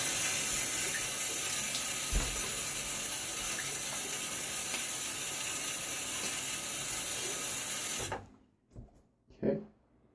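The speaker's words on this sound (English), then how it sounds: "So I'm going to splash my face." Water runs steadily from a tap for about eight seconds before being shut off, followed by a few brief splashes of water onto the face before a shave, heard close with no talking.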